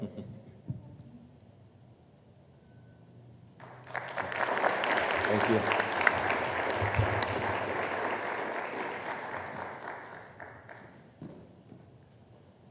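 Audience applause at an innovation competition starts softly, then breaks into a loud, sustained wave of clapping for several seconds before fading away. A short spoken thanks is heard near the start.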